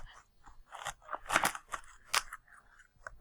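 A celery stalk cut off its root end makes a series of close, crisp crunching snaps and crackles of varying loudness as the blade works through the fibrous stalk.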